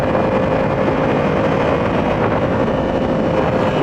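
Yamaha FZ-07 motorcycle engine held at high revs, around 5,000 RPM, during a demo ride at bike week: a steady, loud, continuous drone with a sustained tone, mixed with road and wind rush, no voices.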